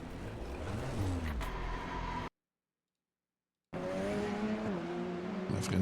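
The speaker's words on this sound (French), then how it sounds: "On a freiné trop tard ici et il n'y a plus moyen de ralentir la voiture, plus moyen de tourner non plus." Tires squealing on a Radical SR race car as it brakes too late into a corner: a strained engine and tire screech, then a sudden dropout to silence before the engine noise and squeal return.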